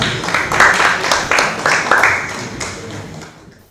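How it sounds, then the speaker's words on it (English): A crowd at an event on seed quality gives a short burst of applause. The dense clapping is loudest at first, then fades steadily over a few seconds. "A round of applause, please."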